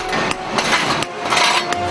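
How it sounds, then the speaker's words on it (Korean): A hand hammer struck with full force against limestone to break it into small pieces for a furnace, giving several sharp, irregular impacts over steady workshop noise. "망치로 있는 힘껏 석회석을 내리쳐서 작게 만든 다음"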